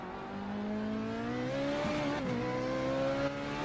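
An open-wheel race car engine at Zandvoort in a racing video game drones steadily and loudly, its pitch rising and dipping briefly through a gear change.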